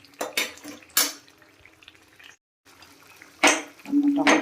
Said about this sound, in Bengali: এবার এই ঢাকনাটা খুলে দেব